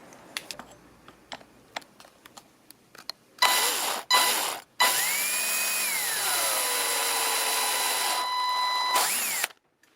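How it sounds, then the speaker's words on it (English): A drill bores a 1/4 inch hole through thin material while rigging a seat riser on an Old Town Topwater PDL kayak: light clicks and handling, two short whirring bursts, then a loud, steady whine lasting several seconds that dips in pitch before stopping. "I'm going to drill a hole right down in there, the same 1/4 inch hole"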